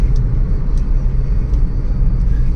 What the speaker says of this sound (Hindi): इंजन साउंड एंड वाइब्रेशन, उसमें कोई खास डिफरेंस नहीं है।